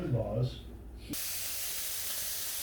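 Chicken pieces browning in a hot pan for a stir fry begin a loud, even sizzle about a second in, continuing steadily after a brief voice at the start.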